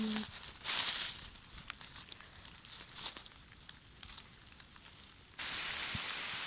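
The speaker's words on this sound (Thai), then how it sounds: "ฝนเริ่มตกแรงแล้วนะคะ" Hard rain falls outdoors during mushroom picking, a faint, close crackling patter of drops striking nearby surfaces that swells into a louder, steady hiss near the end.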